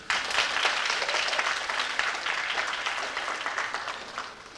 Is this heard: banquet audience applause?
yes